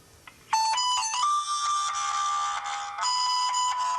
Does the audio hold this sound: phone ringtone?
yes